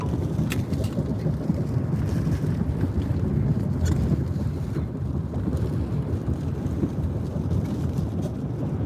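Hurricane Ida winds in Louisiana roar steadily and loudly, buffeting the microphone, with a few faint sharp cracks of tree limbs breaking scattered through the gusts.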